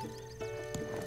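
A horse in Zelda: Breath of the Wild gives a short whinny, with hoof clip-clop and game music holding steady underneath.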